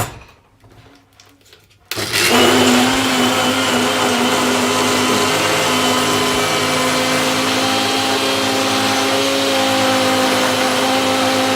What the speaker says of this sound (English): So now I'm just gonna be grinding everything that's in here.